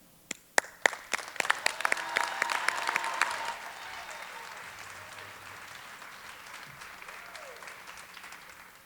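Audience applause at a stage show: a few sharp early claps swell into sustained clapping from a crowd, then slowly taper off, heard from a moderate distance in a hall.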